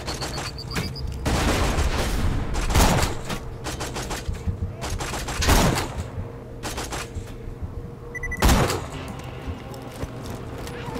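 Rapid gunfire from the video game Borderlands 2, including a Chinook weapon, with repeated bursts of shots and several louder sharp cracks over a busy game soundscape.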